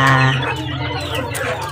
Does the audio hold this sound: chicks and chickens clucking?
yes